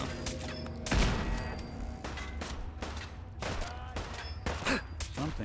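Gunfire in Fallout 4 during exploration: several sharp shot bursts spread across a few seconds, with a heavy blast near the start and more reports later, set against busy game ambience and music.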